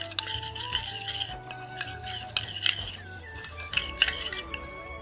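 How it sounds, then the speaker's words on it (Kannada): Spoon stirring rose water and sandalwood powder into a face pack in a small bowl, giving repeated light clinks and scrapes in an uneven rhythm, close and fairly quiet, with no talking. "1 ಸ್ಪೂನ್ ರೋಸ್ ವಾಟರ್ ಮತ್ತು 1 ಸ್ಪೂನ್ ಸ್ಯಾಂಡಲ್ ಪೌಡರ್ ಇದೆರಡನ್ನು ಕೂಡ ಚೆನ್ನಾಗಿ ಮಿಕ್ಸ್ ಮಾಡಬೇಕು"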